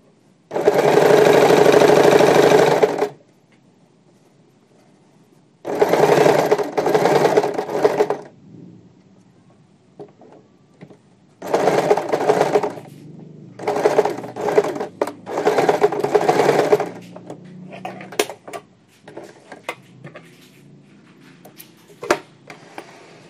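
A sewing machine stitching layers of fabric for a homemade ring sling baby carrier runs in several loud, close bursts of steady whirring, each a few seconds long, separated by pauses and a few faint clicks.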